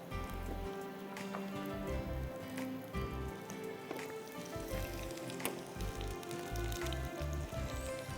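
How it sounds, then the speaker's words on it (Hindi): Battered, crumb-coated chicken pieces crackle and sizzle steadily in hot oil, a dense rain-like frying hiss running throughout with a low background hum. "सो बैटर में फिर इस तरह क्रम्ब कोट और फ्राई"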